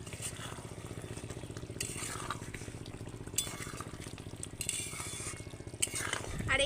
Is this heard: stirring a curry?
yes